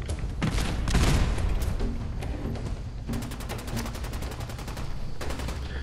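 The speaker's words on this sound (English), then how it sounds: "I think they're firing at someone" Gunfire in Fallout 4's Nuka World DLC: heavy booming shots, then a rapid rattling automatic burst, loud and close, with no talking.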